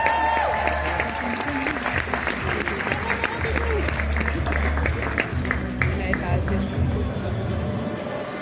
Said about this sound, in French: Merci d'applaudir très fort Romain Tourné.